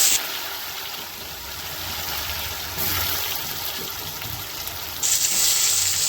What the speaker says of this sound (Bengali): আমার তেলটা গরম হয়ে গেছে। এবার আমি আলুগুলো ভেজে নিচ্ছি।